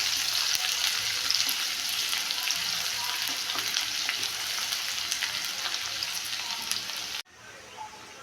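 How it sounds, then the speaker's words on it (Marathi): Garlic and onion sautéing in hot oil in a pan for dhaba-style garlic fenugreek, a loud continuous sizzle with stirring scrapes, then the sizzle drops away abruptly near the end, leaving a quieter hiss. "लसूण घालूया कांदा घालूया थोडं लसूण लाल झालं आता थोडंसं परतू देऊ"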